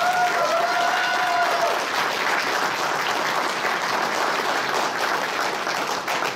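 An audience at a comic-convention panel at Phoenix Fan Fusion applauds Roy Thomas, a dense, even wash of clapping that holds steady for the whole stretch, with a brief tonal sound fading early on.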